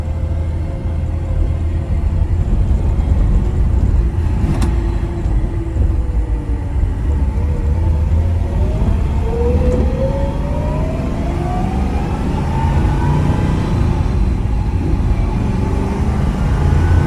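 A 1971 Chevrolet Camaro Z28 with its numbers-matching 350 V8 cruising along, a steady low engine rumble with road and wind noise that rises slightly as it accelerates, heard from inside the car.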